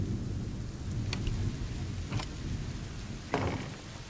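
Thunder and lightning crack through steady rain in the video game A Plague Tale: Innocence, with three sharp strikes standing out over the continuous downpour.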